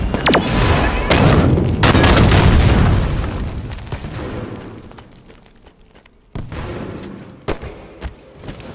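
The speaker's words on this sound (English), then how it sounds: "Watch the nade!" Loud grenade blasts and weapon fire in Halo 5 Arena Slayer multiplayer, a dense run of booms and bursts over the first few seconds, then quieter scattered pops and a fresh blast near the end.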